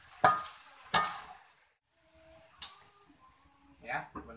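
Fish cooking in sambal is stirred in a pan: a few sharp scraping clatters over a soft sizzle, while a person talks between the strokes.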